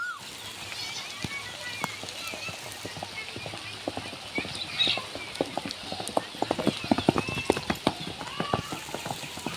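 A horse walks on wet ground in the rain, with close, steady hoof clip-clops in an even rhythm growing busier toward the end over a soft rain backdrop.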